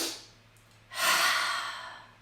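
A physiological sigh breath: a quick double inhale through the nose followed by a long, airy exhale, close and soft with no talking.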